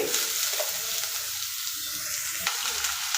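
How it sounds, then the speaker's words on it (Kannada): Onions frying in a pan over a medium flame for a dhaba-style paneer curry, a steady close crackling sizzle with light stirring scrapes and no talk. "ಈಗ ಬೇಕಿದ್ರೆ ಫ್ಲೇಮು ಸ್ವಲ್ಪ ಮೀಡಿಯಮ್ ಫ್ಲೇಮಲ್ಲಿ ಇಟ್ಕೊಂಡು ಇದು ಗೋಲ್ಡನ್ ಕಲರ್ ಬರೋವರೆಗೂ ಫ್ರೈ ಮಾಡ್ಕೊಳ್ಳಿ."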